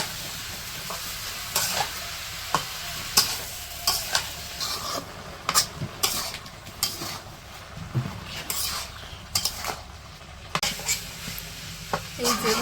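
Vegetable bhaji sizzles in a pan as a utensil stirs it, with repeated sharp scraping and clinking strokes over a soft frying hiss, close by, with faint background voices at times.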